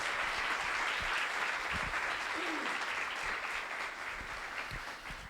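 A church congregation claps together at a Sunday sermon in a sustained, moderately distant wave of applause that slowly fades out.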